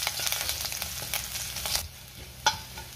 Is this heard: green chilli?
yes